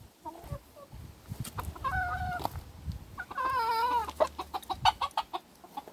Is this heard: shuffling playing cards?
no